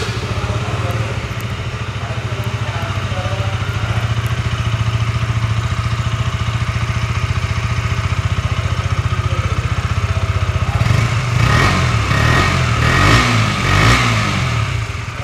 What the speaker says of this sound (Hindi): तो चलिए एक बार इसको स्टार्ट करते हैं, स्टार्ट करके आपको इसका एग्जॉस्ट नोट भी सुनाते हैं।